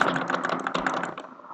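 Fast, steady clatter of keys on a new computer keyboard, up close, with rapid clicks in an even rhythm that thins out toward the end, no talk.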